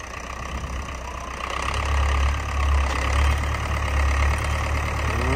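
A farm tractor hauling a heavy load of wet sawdust runs with a steady deep rumble, its engine throbbing loudly and continuously with slight swells in level.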